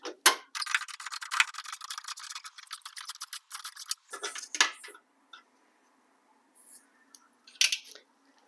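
Bolt being removed from a Honda Civic headlight assembly: a dense burst of rapid metallic clicking and rattling, like a ratchet, for about four seconds, then sparse faint clicks and taps with a couple of sharper clacks near the end.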